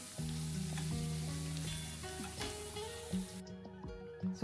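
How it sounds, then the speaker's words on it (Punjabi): Dry spices roast on a low flame in a pan for baingan bharta, giving a soft, quiet sizzle under steady tonal music. "ਸੁੱਕੇ ਮਸਾਲੇ ਆ ਜਿਹੜੇ ਚੰਗੀ ਤਰ੍ਹਾਂ ਆਪਾਂ ਮਿਕਸ ਕਰਕੇ ਇਹਨਾਂ ਨੂੰ ਭੁੰਨ ਲੈਣਾ ਹੈ"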